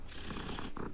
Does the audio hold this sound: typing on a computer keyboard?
no